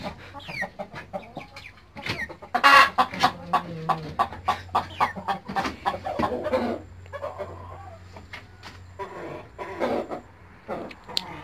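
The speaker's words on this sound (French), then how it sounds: "Elles sont très grosses les poules Brahma." Several Brahma hens cluck close by in quick, irregular bursts, with occasional louder squawks over a steady low hum.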